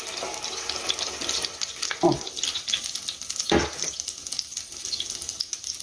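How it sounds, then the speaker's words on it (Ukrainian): Onions frying in a pan while cutlets are being cooked, a steady crackling sizzle with a couple of louder clatters of a utensil or pan. "Цибулька вже підсмажилась."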